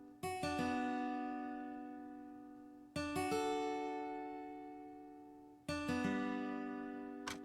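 Three strummed piano chords in an FL Studio beat, each one a quick rolled attack that rings out and slowly decays. They are evenly spaced about three seconds apart, played clean with no voices.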